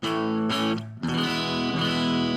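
A distorted electric guitar through a NuX MG30's stack front amp model rings out in sustained chords with a thick, amped-up tone, briefly dipping before a new strum around the one-second mark.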